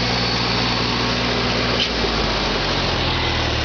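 A smoky engine burning oil from a busted ring on the rear cylinder, running steadily up close and loud, with a slight drop in pitch midway as it is throttled down; no talking.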